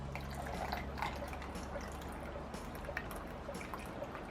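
Red wine vinegar pours into a measuring cup in a kitchen, a steady close trickle with small drips and splashes, alone and fairly quiet.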